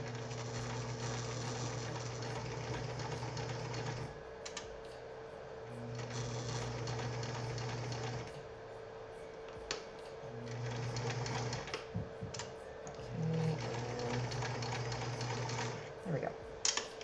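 A sewing machine stitches in several steady bursts with pauses between, its motor hum and rapid needle rhythm fairly close and clear, while a person talks over and between the runs during a home sewing session.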